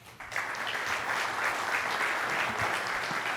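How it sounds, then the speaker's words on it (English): Audience applause fills a room at a National Corvette Museum anniversary membership event, starting abruptly and holding steady as a dense, even wash of clapping. "I think that got the biggest round of applause"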